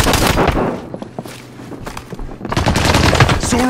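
Dense automatic gunfire and bursts from Call of Duty: Modern Warfare, loud and continuous at the start, easing briefly mid-way, then returning in heavy rapid volleys with sharp individual cracks.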